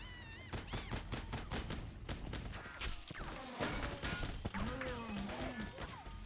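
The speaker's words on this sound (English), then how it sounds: "Who's shooting that? Is it like automated?" Rapid bursts of gunfire from the video game Metal Gear Solid 4 rattle in repeated sharp volleys over the first few seconds, followed by scattered impacts and game effects while voices talk over the action.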